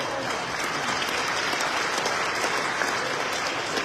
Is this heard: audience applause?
yes